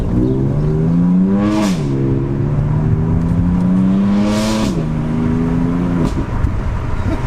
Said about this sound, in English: Look how loud this exhaust is on this car.